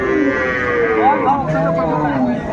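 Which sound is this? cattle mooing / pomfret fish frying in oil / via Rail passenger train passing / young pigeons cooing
cattle mooing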